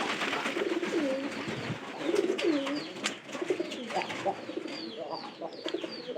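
Pigeons in a loft give repeated soft, rolling coos at close range. Several overlapping calls rise and fall steadily over a faint background hum, with a brief murmur of voice.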